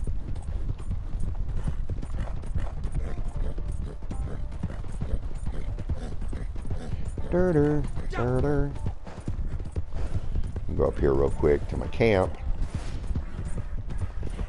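Horse hooves clip-clopping at a steady travelling gait in Red Dead Redemption 2 Online, a continuous rhythmic patter under bursts of a voice and a brief whinny-like call.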